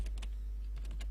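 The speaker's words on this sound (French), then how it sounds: "je peux taper directement sport" Quick keystrokes on a computer keyboard while building a flyer in Illustrator, a few short clicks in two small bursts, close and fairly quiet, with no talking.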